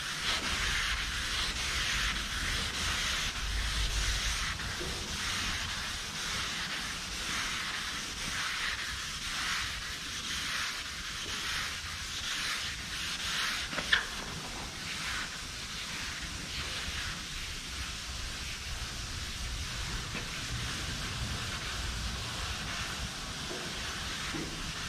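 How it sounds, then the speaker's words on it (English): A dual-action sander wet sanding the body of a Chevrolet Biscayne, giving a steady, continuous hissing whir with a slight rhythmic pulse that runs close and unbroken throughout, with one brief sharp knock partway through. "The DA is basically doing a preliminary sand to speed this side up."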